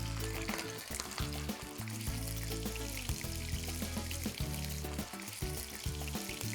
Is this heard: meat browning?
yes